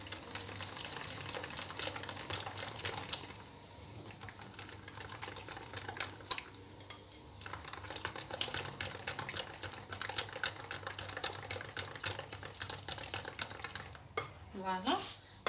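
Batter being stirred in a bowl for an economical cream cake as flour is added, a steady scraping, clicking texture running continuously and fairly close, with a brief squeak near the end.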